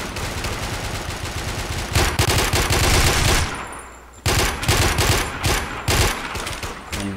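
Automatic gunfire from an AUG rifle in the shooting game Warmode, loud sustained bursts with a brief gap and then several more rapid volleys.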